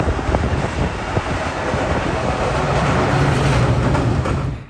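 Locomotive 212 rolls past on the tracks, a loud continuous rumble with wind buffeting the microphone, building slightly in the middle and then easing off at the end.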